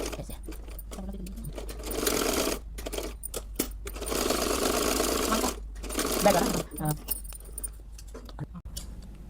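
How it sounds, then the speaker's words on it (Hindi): Sewing machine stitching folded salwar suit fabric around all edges, running in steady whirring bursts with short pauses between runs, close by and moderately loud. "कपड़े को मोड़ते हुए चारों तरफ से इसकी सिलाई करेंगे।"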